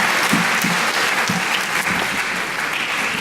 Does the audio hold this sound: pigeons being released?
no